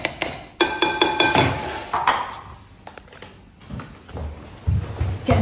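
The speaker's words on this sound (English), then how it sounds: "I've got to whisk it now." A whisk beats cake batter in a bowl, clinking and tapping against the sides in quick irregular bursts with a few louder metallic knocks, close by and without speech.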